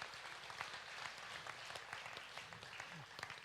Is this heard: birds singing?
no